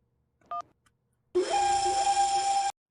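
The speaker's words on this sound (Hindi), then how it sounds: "इतनी रात गए और आप लगातार डोरबेल बजा रहे थे" A doorbell rings late at night: a short electronic chime, a brief pause, then a longer sustained two-tone ring, clear and close in a quiet room.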